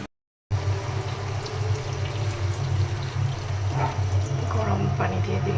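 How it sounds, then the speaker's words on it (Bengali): Hot water pours into a cooking pot of fish-head curry with eggplant and potato, a close, continuous splashing and gurgling that runs for several seconds after a brief silence. "গরম পানি দিয়ে দিলাম"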